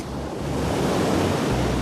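Tsunami waves surge in from the sea in a continuous loud roaring wash of water and wind, heard on its own with no voices.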